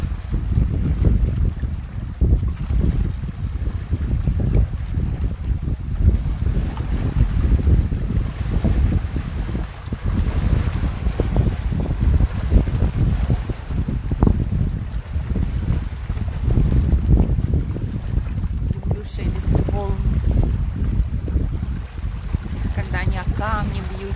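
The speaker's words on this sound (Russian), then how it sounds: "Кто не живет на море или редко бывает на нем, вот вам немножко нашего моря" Sea wind and waves on the shore of Nagayev Bay, Magadan, in early June: strong gusts buffet the microphone over a continuous rush of surf, with a voice speaking intermittently.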